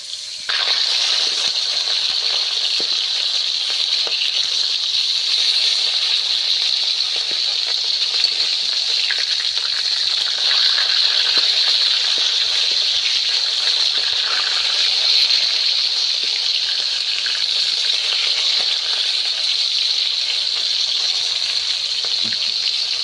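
Saltwater sating fish frying in oil, a loud, steady, hissing sizzle that carries on unbroken and close for over twenty seconds with small crackles.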